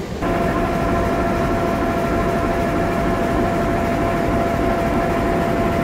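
A Ranggajati business-class passenger train running on the Jember to Cirebon route, heard from inside the carriage as a loud, constant roar and rumble of rolling wheels with a faint steady hum.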